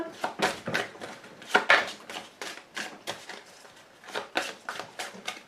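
A deck of pretty tarot-style cards being cut and shuffled by hand, giving a quick run of crisp, papery slaps and flicks in close succession, loud and close with no voices.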